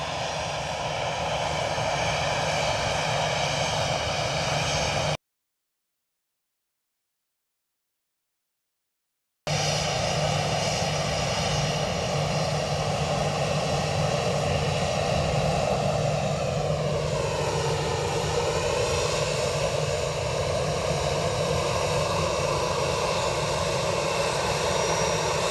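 An easyJet airliner's jet engines roar loudly and continuously at Edinburgh Airport, broken by a brief dead gap, with a sweeping pitch shift as the aircraft passes close by.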